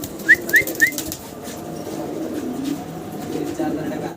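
A pair of German Beauty Homer pigeons gives three quick, close calls, followed by a low murmur of background voices and movement.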